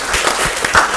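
Classroom applause for a student group after their presentation, a brief burst of many hands clapping together, loud and close.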